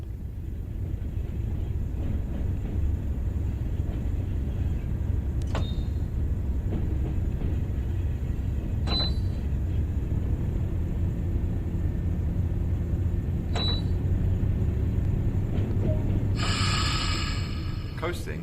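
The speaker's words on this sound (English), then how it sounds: "With the train now moving, it's possible to apply more power and focus on achieving the desired speed." A train moving along the Tees Valley Line in Train Sim World gives a steady, loud low rumble throughout, broken by a few brief sharp clicks and a burst of hiss near the end.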